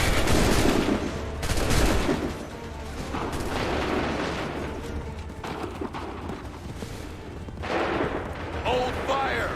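Musket volley gunfire in Assassin's Creed 3, with dense crackling rounds of shots and booming reports across the battlefield, and shouted voices mixed in under the firing.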